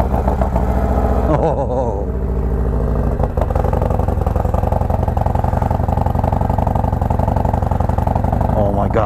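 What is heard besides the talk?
Harley-Davidson motorcycle exhaust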